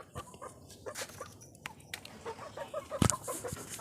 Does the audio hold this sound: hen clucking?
yes